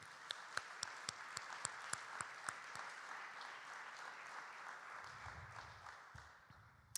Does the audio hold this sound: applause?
yes